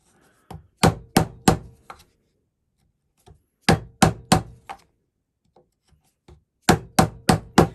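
Chisel struck with a mallet to chop a mortise in wood, sharp woody thwacks in quick bursts of three or four, separated by short pauses with faint scraping, close and loud.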